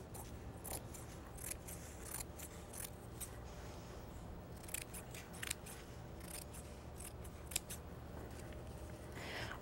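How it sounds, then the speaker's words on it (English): Scissors snip through pinned fabric for a seat cushion, a run of quiet, crisp cuts repeating at an uneven pace close by, with no talking. "So it's pinned and I'm just going to cut it out."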